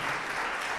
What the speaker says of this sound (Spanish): Las mujeres aplauden, los hombres no.